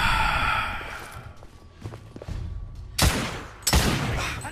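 Shotgun blasts in The Order: 1886, two loud, sharp broadband bangs with fading tails about a second apart, following quieter scattered combat noise and rumble.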